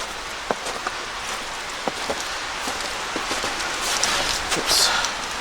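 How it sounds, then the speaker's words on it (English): Rainwater drips off the roof of a cabin at a state park, with scattered close drops tapping over a steady soft patter of rain. "Water dripping off the roof, going down the neck."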